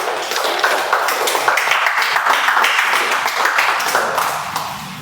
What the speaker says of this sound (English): let's give a good round of applause to our table topic master of the day